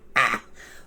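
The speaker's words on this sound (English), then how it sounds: "Here Mr. Poe interrupted himself to cough once more into his handkerchief" A single short cough or throat-clearing, muffled as if into a handkerchief, sounds close and alone before fading into quiet room tone.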